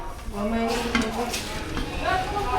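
Metal kitchenware clatters and scrapes as a lid falls off a pot and clangs against it, under a background of voices.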